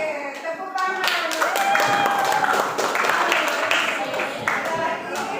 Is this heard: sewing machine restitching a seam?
no